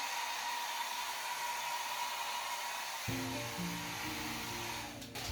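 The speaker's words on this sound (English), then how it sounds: "Travel hair dryer. And I have my air diffuser on it." A Babyliss travel hair dryer fitted with a diffuser blows steadily across wet acrylic paint, a loud, continuous close-up whoosh. Partway through, a lower droning hum joins the airflow, and the sound thins out near the end.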